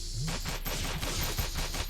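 Rapid gunfire rattles out as a magazine is emptied in the space-station game Space Station 14, a dense burst of shots that is loud and continuous over game noise.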